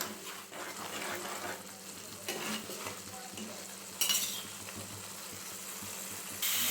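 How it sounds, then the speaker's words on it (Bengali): Spice paste with chilli powder sautéed in oil for a soybean omelette curry, a soft low sizzle under scraping and stirring of a spoon against the pan, with a couple of sharper metallic clinks. "মশলাটাকে খুব ভালোভাবে কষিয়ে নিতে হবে যতটা সময় পর্যন্ত তেলটা না বেরোয় মশলার গা থেকে"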